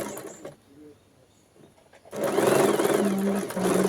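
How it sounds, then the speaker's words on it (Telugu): A sewing machine stitching the round edge of a girl's frock, quiet at first with a short hum and pauses, then a loud, steady whirring run through the second half. "మళ్ళీ కార్నర్ దగ్గర పాదం మీదకి అంటూ మళ్ళీ కిందికి పెట్టేసి రౌండ్ దగ్గర స్టిచ్ చేసేసుకోవాలి"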